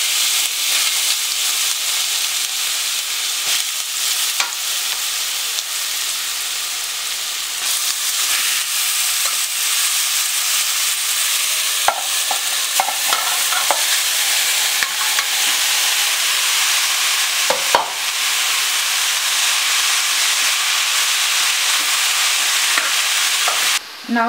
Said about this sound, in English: Now we will add grated beetroot and saute it.